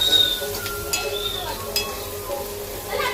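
Onion with chillies and chana dal sizzles and fries in a pan for homemade vada pav, a steady soft crackle with a few faint stirring clinks and a little background noise.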